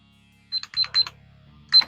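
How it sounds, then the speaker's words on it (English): A few short electronic beeps from a small timer being set, sharp and close, in separate quick presses with a low hum beneath. "now I'm going to set my cute little timer"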